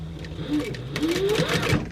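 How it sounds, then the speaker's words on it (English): A sewing machine stitches a fabric carrying case with a steady, close mechanical whir, while someone talks over it. "I like doing it at the sewing machine and just kind of taking my time doing it"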